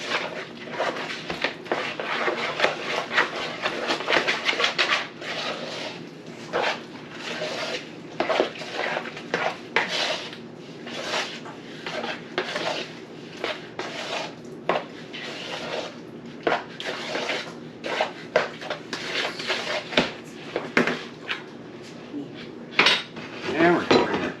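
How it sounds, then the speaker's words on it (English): A utensil stirs caramel apple dump cake mixture in a pan, producing dense, irregular metallic clinks and scrapes that repeat rapidly and closely throughout, with no talk over them. "we're going to stir it up."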